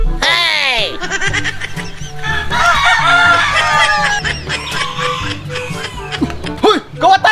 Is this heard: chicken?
yes